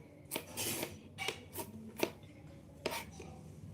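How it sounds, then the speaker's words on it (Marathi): A knife chops cauliflower on a board to prepare manchurian at a vada pav stall, giving a few separate crisp cuts at an uneven pace, close and fairly quiet, with soft handling noise between the strikes. "गोबी कापतोय मी मंचुरियनसाठी"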